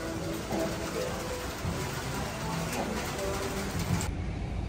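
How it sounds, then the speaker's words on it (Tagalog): Heavy rain pours steadily near a parking area, a dense continuous hiss that stays even throughout and drops away sharply near the end, with faint voices in the background. "At sobrang maulan pa rin."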